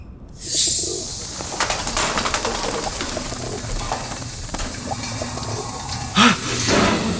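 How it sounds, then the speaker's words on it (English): A flock of pigeons in the video game Ad Infinitum coos and murmurs over a rushing, watery background wash, with a louder close coo near the end. "So many pigeons."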